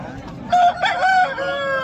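A fighting rooster at a Sunday poultry market in Vijayawada lets out one loud, close crow lasting over a second, with faint market chatter behind it.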